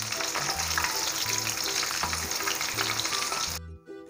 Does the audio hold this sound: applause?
no